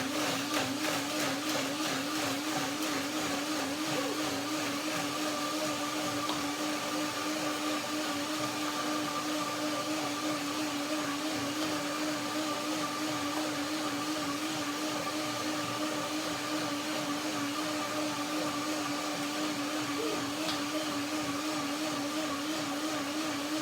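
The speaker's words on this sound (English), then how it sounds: "So blender dance right now begins." A blender runs steadily and loudly without pause, blending kiwi salad with water in a constant whirring drone with no talking.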